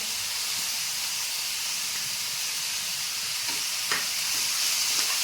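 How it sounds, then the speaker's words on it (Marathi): Carrots, capsicum and cabbage stir-frying in a pan for veg momos, a steady loud sizzle and hiss with a few faint scrapes of stirring, close and continuous. "सगळ्या भाज्या चांगल्या प्रकारे मिक्स करून घेऊ।"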